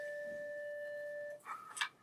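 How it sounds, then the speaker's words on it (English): School bell in a classroom sounding a long steady two-tone ring, cutting off abruptly, followed by a couple of brief clattering noises. "obviously the bell's ringing"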